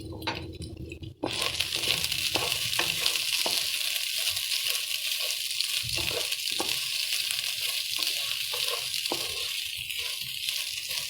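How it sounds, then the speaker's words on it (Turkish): Vermicelli crackles and sizzles steadily in butter in a hot pot, with occasional stirring scrapes and light clinks throughout. "Daha sonra da şehriyelerimi kavurup üzerine pirincimi eklerim"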